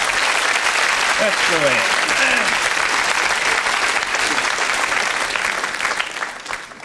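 A studio audience at a 1980s British live comedy show gives a volunteer a loud, dense round of applause. Whoops and a voice rise over the clapping, which fades toward the end.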